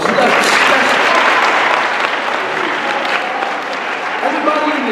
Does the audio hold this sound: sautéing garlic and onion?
no